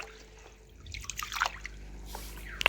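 Water is poured over rice in a bowl for washing, giving soft trickling and dripping with a brief splash near the end, quiet and close.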